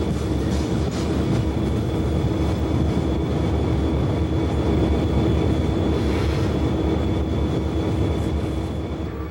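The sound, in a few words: Monongahela Railway train passing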